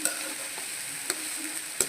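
A taro stem stir-fry with green chilli is stirred in a hot pan, giving a steady close sizzle marked by a few sharp scraping strokes of the spatula.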